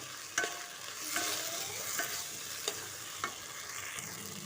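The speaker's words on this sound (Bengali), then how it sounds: "গুঁড়ো মশলা করে রেখেছিলাম সেটাই ভালো করে তরকারির সঙ্গে মিশিয়ে নেবো" Ground spice powder stirred into a taro stalk curry in a pan: soft scraping of a spoon over a low sizzle, with a few sharp taps of the utensil against the pan, quiet and close.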